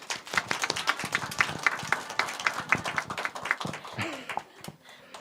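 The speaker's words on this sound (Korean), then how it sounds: "우리 축하의 박수를." Congregation applause during a Christmas-season Sunday church service: sharp, close handclaps in a lively rhythmic burst that thins out and fades near the end.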